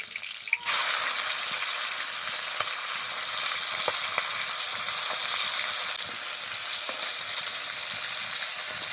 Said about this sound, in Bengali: মাছটা একটু ভাজা হয়ে গেছে। এবার উল্টে দেবো।